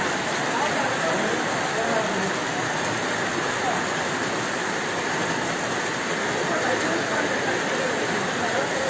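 Heavy monsoon rain pours down in Baldwara, a dense, unbroken roar of water that stays loud and even throughout, like a downpour on open ground and running runoff.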